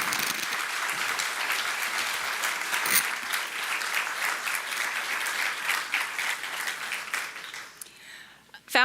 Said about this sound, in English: Let's give a round of applause to the class of 2025.